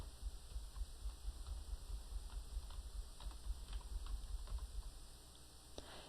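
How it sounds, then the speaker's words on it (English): Typing on a computer keyboard, a steady stream of soft, irregular key clicks and taps continuing throughout over a low background hum, close and fairly quiet. "I'm going to start typing some different letters."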